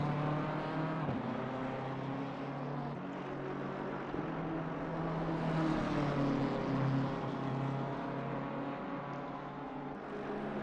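A BMW M4 race car runs on the Zandvoort circuit during a PanAm series round. Its engine drones steadily at mid distance, with the pitch rising and falling slightly as it passes, and no voices are heard.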